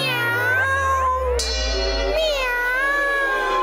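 A person imitates a cat with a long, loud, drawn-out meow, alone with no other sounds, in a comedy scene where a dog imitation was asked for.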